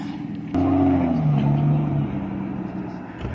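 A pearlescent white Aston Martin pulls away with a sudden engine rise, its note climbing then settling into a steady drone as it drives off close by.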